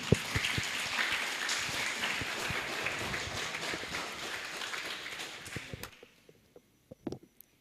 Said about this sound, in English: Please give big round of applause.